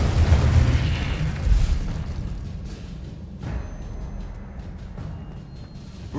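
A deep, booming blast from the Confringo fire spell erupts in Hogwarts Legacy, rumbling heavily at the start, followed by a second thud midway and a fading low roar, with no talk.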